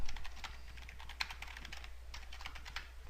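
Quiet, rapid keystrokes on a computer keyboard as a password is typed, an irregular patter of light clicks running steadily for a few seconds over a faint hum.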